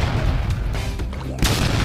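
A homemade boga, a PVC cannon, fires with a loud boom near the end, over a steady roar of outdoor noise.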